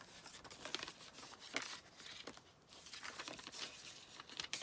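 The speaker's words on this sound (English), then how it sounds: "Now, I'm just going to tear off the top slightly." Paper tearing and crinkling close by as the top of a vintage matchbook is torn off, a few soft rips and rustles at low volume with no talking.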